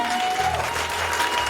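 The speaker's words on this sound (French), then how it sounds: "Est-ce qu'on peut l'acclamer très fort" Church congregation applauding for Jesus, a dense burst of clapping from many hands filling the room, steady and loud throughout the short moment.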